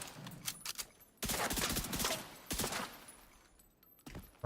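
Rapid bursts of automatic gunfire from the shooter video game The Division 2, as enemies are shot down, with dense loud volleys in the middle and quieter scattered shots on either side.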